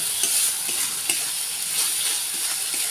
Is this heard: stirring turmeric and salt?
yes